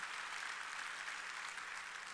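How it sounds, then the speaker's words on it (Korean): A church congregation applauds during a Wednesday worship service, steady dense clapping from many hands filling the room without a pause. "깨달은 사람만 박수 치라고."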